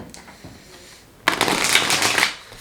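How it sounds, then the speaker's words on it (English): Guardian of the Night tarot deck cards being shuffled by hand, a loud, dense riffling burst lasting about a second after a quiet lead-in, then tapering off. "it has the same cardstock as well, so it shuffles really well and it holds up really well too"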